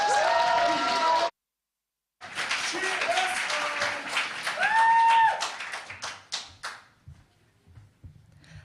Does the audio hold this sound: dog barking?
no